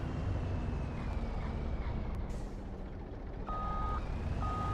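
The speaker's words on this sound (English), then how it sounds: "Do y'all like that reverse sound?" Steady electronic reversing beeps from a truck in the game Farming Simulator 25, repeating at an even pace over a low engine rumble.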